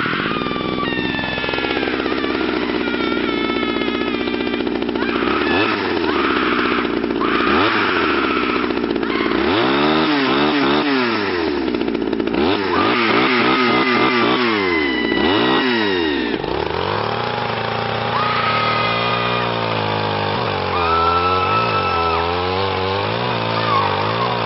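A chainsaw runs loud and close for the whole stretch, repeatedly revving up and dropping back to idle in uneven surges, with its harsh buzzing tone rising and falling.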